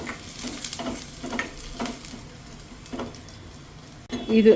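Small shallots frying in ghee in a pan, a steady soft sizzle with periodic stirring scrapes, ending in a louder clatter near the close.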